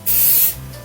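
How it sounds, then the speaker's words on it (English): A Harder & Steenbeck Ultra airbrush sprays model car paint in one short, sharp hissing burst of about half a second, close and loud, then cuts off. "Harder and Stenbeck airbrush, the Ultra. Absolutely love it."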